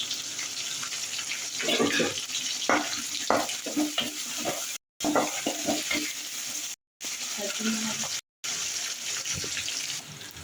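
Shallots and curry leaves fried in a pan for a Sri Lankan curry: a loud, bubbly, watery sizzle with busy stirring and spatula scrapes, broken by several short gaps of silence.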